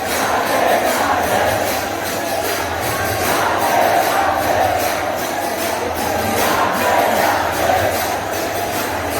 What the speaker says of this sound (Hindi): इस्कॉन पटना में इतना ज़्यादा भीड़ है, सारे भक्त यहाँ झूम रहे हैं।